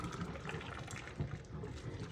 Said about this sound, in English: I'm gonna pour off the first set of water off it